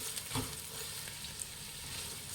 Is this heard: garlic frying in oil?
yes